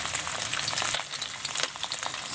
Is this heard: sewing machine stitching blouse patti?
no